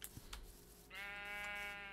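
A sheep bleating in the video game Minecraft, one clear wavering bleat after a few soft clicks, close but quiet.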